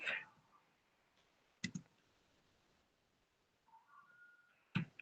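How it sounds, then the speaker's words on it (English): Computer mouse clicks while working in a design program, a few sharp, quiet clicks spaced apart in a near-silent room. "Let me click on it and type Ms. Ruth."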